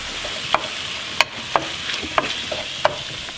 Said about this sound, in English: So you can just toss it in, break it up with the spatula